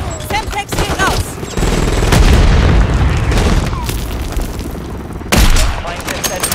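Call of Duty Modern Warfare 3 gameplay with a grenade blast, heavy booms and rapid gunfire crowding together loud and close, while voices call out in German over the battle noise.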